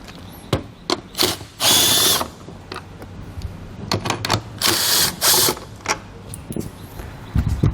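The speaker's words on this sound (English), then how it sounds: "We're going to remove these with a 10mm socket." A power tool fitted with a 10mm socket spins out taillight screws in two loud, close whirring bursts of about half a second each, separated by quieter handling clicks and taps.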